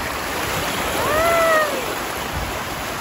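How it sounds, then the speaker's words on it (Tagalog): High water rushes steadily through a creek in a broad, constant wash of sound, close and fairly loud, while a faint brief tone rises and falls partway through. "medyo mataas pa yung tubig dito sa may sapa"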